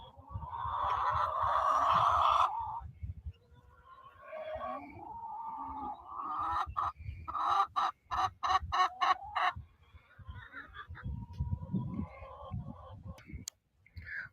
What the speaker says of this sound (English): Oh, the chickens are getting really loud.